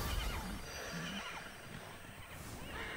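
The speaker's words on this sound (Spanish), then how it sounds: "¡Llévame, caballo! ¡Corre como el viento, tiro al blanco!" Horse neighing in the video game Immortals Fenyx Rising, a whinny over a continuous bed of game ambience and music, with no voices.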